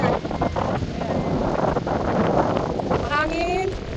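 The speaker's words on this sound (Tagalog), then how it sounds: "Mahangin." Gusty wind blowing across the microphone at the seaside by the pier at Burnham-on-Sea, a loud buffeting rumble throughout, with people talking over it.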